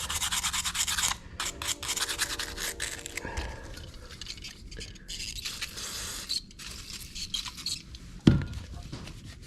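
Scrubbing and rubbing on a car radiator core to clear oil and dirt before welding, a steady raspy scraping with brief pauses and one sharp knock near the end, close and moderately loud.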